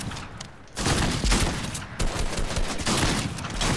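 Rapid bursts of video game gunfire crackle loudly, several volleys of repeated shots with short gaps between them and no talk over them.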